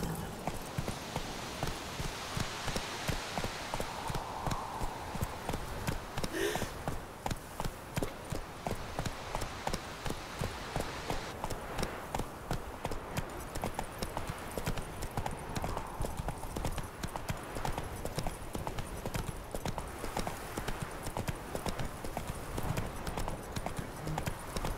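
Horse hooves clip-clop in The Witcher 3 video game, a steady rhythmic trotting gait that continues throughout at moderate volume, with faint game ambience behind it.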